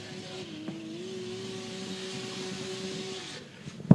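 Drift race car at a drift series round, its engine holding a steady high drone for about three seconds before dropping away, with tire noise beneath, heard from a distance and fairly faint, ending in a sharp close knock.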